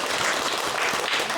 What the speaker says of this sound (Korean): 박수해줘요